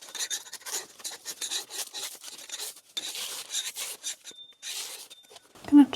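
Wallpaper being scraped off a bedroom wall, heard as repeated close rasping strokes in uneven bursts with short pauses, mostly alone with a brief knock near the end.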